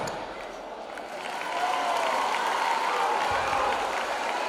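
Applause for first-year Bachillerato students at a school Entroido carnival festival, a crowd clapping steadily at moderate distance, swelling slightly louder partway through.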